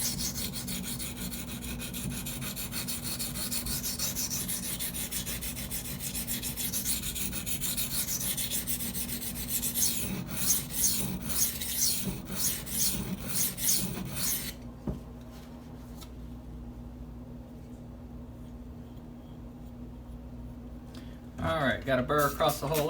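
Spyderco Native 5 knife edge worked against a Gritomatic silicon carbide sharpening stone, giving a steady continuous rasping scrape that turns more broken and stroke-like, then briefly drops quieter before the scraping strokes resume.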